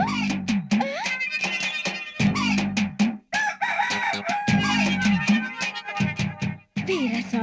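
A rooster in a Telugu comedy film scene crows loudly several times in close succession, mixed with clucking and other busy harmonic sounds, with brief pauses between bursts.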